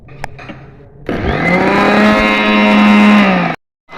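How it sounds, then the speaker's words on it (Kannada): A kitchen mixer grinder (mixie), used while preparing a large batch of pulao for a hundred people, switches on with a sudden loud whine, runs steadily for about two and a half seconds at close range, then stops abruptly. "ಸೊ ನಾ ಇಲ್ಲಿ ಮಿಕ್ಸಿ ಹಾಕತ್ತಾನೆ"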